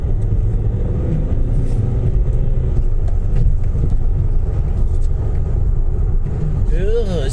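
A car accelerates hard along a road, its engine and tyre rumble a steady loud drone throughout, with a voice briefly audible over the noise.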